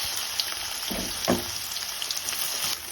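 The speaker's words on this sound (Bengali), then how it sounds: "প্রথমে কড়াইতে তেল দিয়ে দিয়েছি, তারপর দেব পেঁয়াজ" Onions fry in hot oil in a wok with a constant fine sizzle and a few brief stirring scrapes, close but fairly quiet with no talking.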